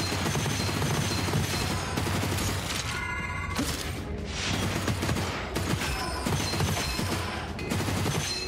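Dense, rapid gunfire in Gunfire Reborn, overlapping shots and mechanical clatter in steady volleys with brief lulls, loud and close with no talking.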